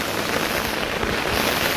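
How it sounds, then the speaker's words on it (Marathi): A heavy monsoon rain shower over a Konkan village with newly planted fields pours down as a dense, steady hiss, loud and continuous with no voices. "पावसाने अगदी मोठी सर आली"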